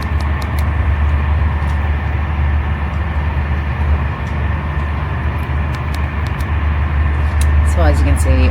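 Inside a train running from Colmar to Basel, a steady low rumble and hum of the moving carriage carries on throughout, with faint rattles and a few clicks over it.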